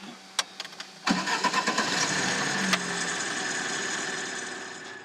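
A car engine cranks with a few quick clicks and turns over, catching and settling into a steady mid-pitched idle that runs on close and fairly loud.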